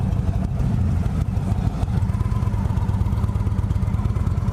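A 2017 Indian Roadmaster motorcycle engine idles with a deep, steady, loping rumble close by. It holds a constant throbbing rhythm throughout and no one talks over it.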